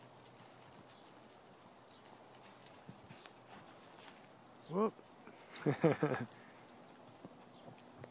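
A BLM mustang being led to pasture gives a few soft hoof steps on the ground, close by but quiet, with a short cluster of louder clops near the middle; a person speaks briefly.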